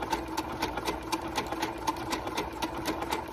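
A sewing machine stitches out an embroidery design on fabric backed with stabilizer, running at a fast, steady, even rhythm of needle strokes over a constant motor hum, close and alone.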